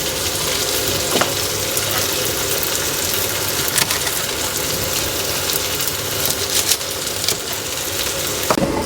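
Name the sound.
food frying in a pan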